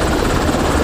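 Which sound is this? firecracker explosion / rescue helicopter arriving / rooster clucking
rescue helicopter arriving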